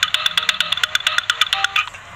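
A phone ringtone set off remotely to locate a child's mobile, a fast run of evenly spaced bright electronic beeps repeating for about two seconds before stopping, clear and close with no talking.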